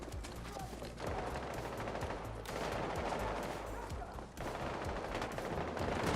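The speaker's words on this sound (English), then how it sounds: "And they're still shooting like crazy." Heavy gunfire in the video game Battlefield 2042, dense rapid bursts of automatic fire rattling on without letup, with louder swells and faint voices underneath.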